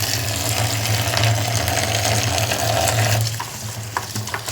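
Fresh tap water runs steadily over mustard greens being washed for Punjabi saag, a continuous splashing gush that drops off sharply near the end, leaving lighter drips and handling noises.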